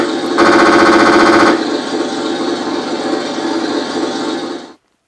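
Hull machine gun sound effect from a 1/6 scale Armortek Tiger I (late) model tank: a loud, rapid burst of fire lasting about a second, followed by a steady mechanical engine drone that runs on until it cuts off.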